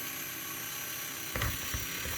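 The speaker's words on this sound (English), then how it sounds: "Nice and slow, so that we don't drill a hole in the desk." A drill boring into plastic, a faint high whine with a brief grinding burst near the end, quiet and close.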